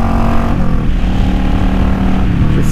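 Motorcycle fitted with Emgo-style cocktail shaker exhaust revving, a loud, steady engine roar with a dense harmonic drone that holds throughout, close to the microphone with no talk.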